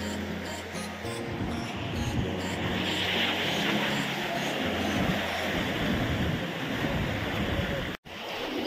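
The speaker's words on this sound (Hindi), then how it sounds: "ये लहरें आ रही हैं बूम बूम।" Sea waves roll in on the shore in Mumbai, making a continuous broad roar that swells and surges, with a low rumbling wash and a brief dropout near the end.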